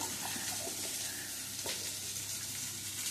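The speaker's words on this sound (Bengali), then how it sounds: "পটলটা ভাজা হতে হতে আমি একটা বাটির মধ্যে কিছু মশলা নিয়ে নিচ্ছি।" Pointed gourd (potol) fries in a pan with a constant, close hiss of oil and faint crackles throughout, with no talk over it.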